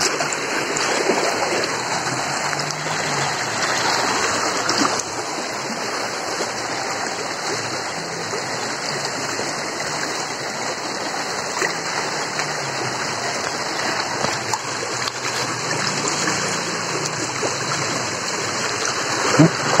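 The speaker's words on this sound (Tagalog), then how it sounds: "Sinasurvey namin yung sapa." Steady rushing flow of a shallow creek, continuous and close, with a broad wash of babbling water that stays even throughout; no clear talk over it.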